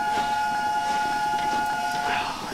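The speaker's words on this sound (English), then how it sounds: "And this whistle is amazing." Whistle of the wartime Flying Scotsman steam locomotive, a sustained steady tone sounding loud and close throughout, with a bit of background rumble.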